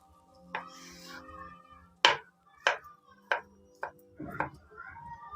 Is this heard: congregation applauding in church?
no